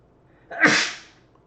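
One loud, close sneeze with a sharp breathy burst that trails off quickly, heard alone against a quiet background.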